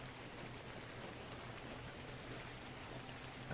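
Rain falls in the survival video game Ark, a soft, even, continuous wash of drops with no distinct impacts and no voices.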